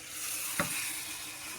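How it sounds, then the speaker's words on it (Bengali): Potatoes fry in oil with turmeric, salt and sugar for a big chitol fish curry. A soft, steady sizzle is broken by one short clink of a utensil. "আলুগুলো দিয়ে সুন্দর করে কষিয়ে নেব"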